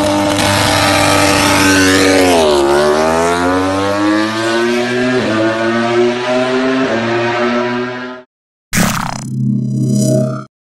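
Racing motorcycles at full speed, a loud high engine whine that sweeps down and back up with gear-shift steps, then a sharp cut and a brief second burst of revving.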